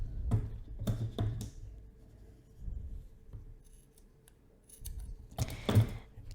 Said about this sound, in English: I will go ahead and cut this piece.